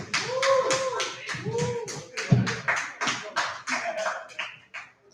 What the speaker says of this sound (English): Clap it up for Kevin Doty.